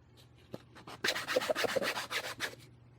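The sharp edge of a cured resin piece gets sanded at an angle, a close rasping rub that starts with a few light strokes, then runs in quick repeated back-and-forth passes before easing off.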